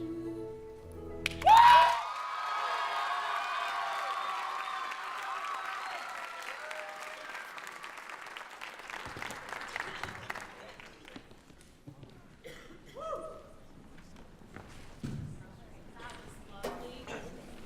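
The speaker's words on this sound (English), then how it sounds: "Let's give another round of applause" A show choir audience breaks into applause as a song ends, a dense crowd clapping that swells sharply at first, then holds steady for several seconds before thinning out and giving way to scattered voices and movement.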